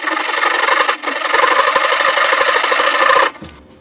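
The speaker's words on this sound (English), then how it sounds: "So use the cross-cut side of the Ryoba." Japanese Ryoba saw cross-cutting wood for drawer dovetails, a loud continuous rasping stroke with a brief pause near one second, ending abruptly into quiet.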